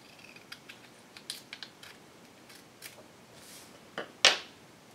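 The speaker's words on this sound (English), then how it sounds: "I'm going to cut it out." Scissors snipping out a rub-on transfer for a Halloween display jar tag, heard as a few soft, separate close-up cuts and paper rustles spread over a quiet moment, with one sharper snip near the end.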